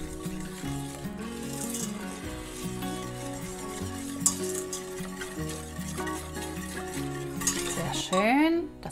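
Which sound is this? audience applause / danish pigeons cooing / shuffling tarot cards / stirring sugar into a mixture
stirring sugar into a mixture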